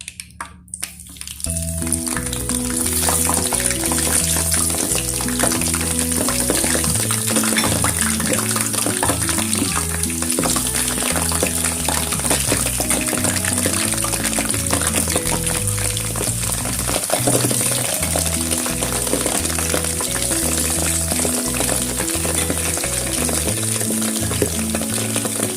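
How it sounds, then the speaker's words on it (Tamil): Cut brinjal pieces deep frying in hot oil, a loud, dense, continuous bubbling sizzle that rises sharply after a brief quiet start and holds steady throughout, with no talking. "நான் இப்போ வெட்டி வச்சிருக்கிற கத்திரிக்காயை போட்டு பொரிச்செடுக்க போறேன்."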